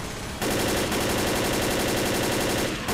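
An assault rifle fires in the zombie shooter Left 4 Dead as a loud, steady full-auto burst of rapid, evenly spaced shots that runs for about two and a half seconds and then cuts off.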